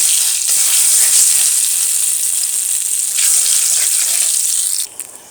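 A pinch of black cumin sizzles steadily in hot mustard oil, a loud, close, continuous frying hiss that cuts off abruptly near the end.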